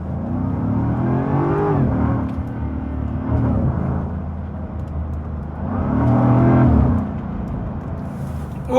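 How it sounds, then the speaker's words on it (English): A Land Rover Defender V8 on the road revs up and eases off twice, a deep, loud, sustained engine drone swelling and fading, heard from inside with no talking. "put this V8 into a test and feel the engine"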